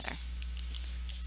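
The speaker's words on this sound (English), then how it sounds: "I'm just going to take my scissors here and trim that adhesive off." Scissors snip adhesive off a handmade stamped greeting card, a few short, crisp cuts close by against a quiet room hum.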